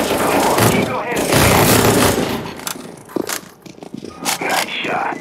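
Video game gunfire cracking in bursts, a dense volley at first, then scattered sharp shots, with a voice talking over the action.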